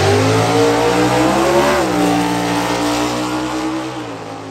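Hemi-powered drag racing cars roar hard at the NHRA U.S. Nationals in Indianapolis, a loud sustained engine blare with rising and shifting pitch that fades slightly near the end, no voices over it.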